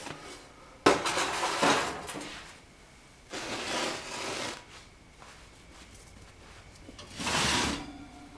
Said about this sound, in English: Just go ahead and take the lid off.